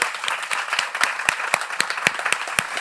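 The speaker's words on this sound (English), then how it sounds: "But I want to give them a big round of applause." Applause from a small audience at a taste and culture session, a thin scattering of distinct, separate claps at an uneven rhythm rather than a dense roar.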